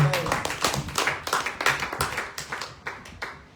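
A church congregation claps along during a Sunday service, with quick, uneven hand claps coming in rhythmic bursts and mixed with voices in the room.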